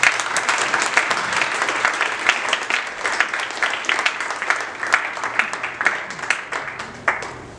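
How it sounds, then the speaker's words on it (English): A large audience applauds after speakers at an evening event on minorities and the future of Islam: dense, steady clapping that carries on for about eight seconds, with no talk over it. "I'd like a huge round of applause for our speakers tonight."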